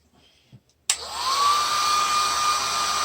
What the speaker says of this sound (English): I could probably use the hair dryer too, and I think I will, just a little bit.